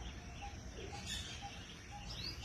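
Faint, evenly spaced short dove calls repeat about twice a second against a quiet outdoor background.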